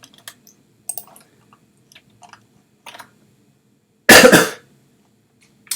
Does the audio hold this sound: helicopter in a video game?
no